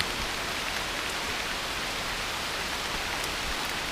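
Steady rain falls in a forest, a dense even hiss filling the scene throughout with no breaks or talk.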